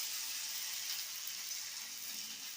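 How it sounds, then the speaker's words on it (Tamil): Raw jackfruit pieces roasting in oil on a flat tava give a steady, close, even sizzle with no talking. "இப்போ தவாவில் போட்டு ரோஸ்ட் பண்ணி எடுத்துக்கலாம்."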